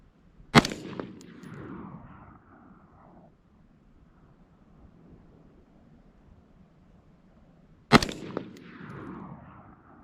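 A Colt M16A2 carbine 727 rifle fires two sharp, loud single shots several seconds apart, each followed by a brief outdoor echo and wind noise.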